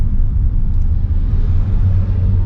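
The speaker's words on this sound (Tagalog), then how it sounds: "Pero pag mabilis ka, narinig mo ang road noise." Steady low road rumble and tire drone heard from inside a DIY electric conversion of a Hyundai Elantra at speed, a continuous loud hum with no engine sound and no talk.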